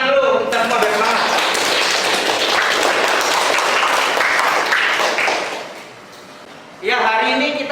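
Classroom applause from students at the start of an online business and marketing lesson, a dense, loud burst of clapping that fades out, followed by a brief lull before a voice speaks.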